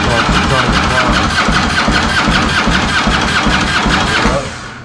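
A Harley-Davidson motorcycle engine is started and runs loud and close with a steady, throbbing rumble, fading a little at the very end.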